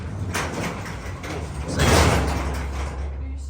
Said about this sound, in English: we're shutting the roller door really quickly